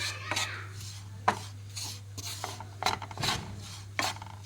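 Gram flour roasting in a pan for besan halwa, stirred with repeated scraping strokes in a rough rhythm, close and moderately quiet over a low steady hum.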